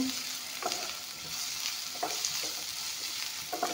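Carrots fry in a pan with a steady, soft sizzle. Stirring scrapes come at intervals of about a second, fairly close and not loud.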